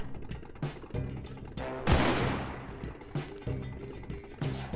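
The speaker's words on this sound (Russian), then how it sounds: "еще надо, наверное, один выстрел сделать" Gunfire in the video game Mafioso: Gangster Paradise, a few sharp shots in a row with one heavier blast in the middle, set against looping game music at moderate level.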